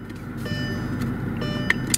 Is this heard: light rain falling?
no